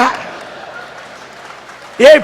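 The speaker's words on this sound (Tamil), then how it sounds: "பேசாமலே கைத்தட்டல் வாங்குறேன்னா" Brief burst of audience clapping at a public political speech in Thoothukudi, rising loudly at the very end after a stretch of quiet murmur and a voice at the start.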